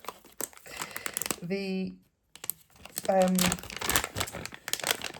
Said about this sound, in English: refills come in these like funny plastic bags, and you just pull them out